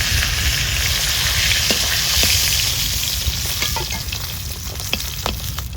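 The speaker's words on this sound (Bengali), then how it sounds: "মাছের মাথা বেশি ভাজবো না, হালকা করে ভেজে নিয়েছি, এবার তুলে নেব" Hilsa fish heads fry lightly in hot oil with a loud, close, bubbling sizzle, dotted with sharp spattering pops and the clink of a utensil turning them.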